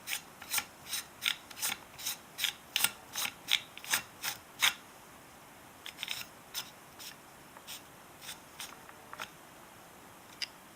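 A small screwdriver turns a screw into an AR-15 stock, giving a series of crisp ratcheting clicks in quick rhythm that slow and grow fainter toward the end.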